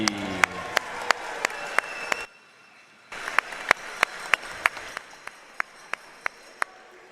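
Crowd applause for the St. Thomas men's basketball team at a gold medal game in a gym, a bed of clapping broken by sharp individual claps, pausing briefly midway before resuming and thinning out.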